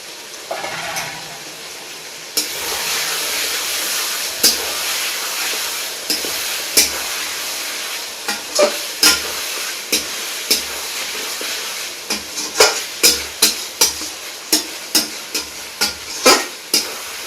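Potato pieces frying in hot oil in a pan for a village-style chicken curry, a steady sizzle broken by repeated sharp scraping stirs that come faster and louder toward the end.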